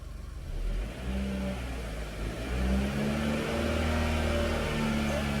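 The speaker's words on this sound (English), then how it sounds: "See, I'm revving it and it's coming down." A Chevy Sonic or Cruze engine, running rough with its check engine light on, is revved up close. The steady idle climbs into a rising, sustained rev that holds loud to the end, with no talk over it.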